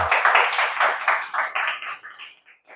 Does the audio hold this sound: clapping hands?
yes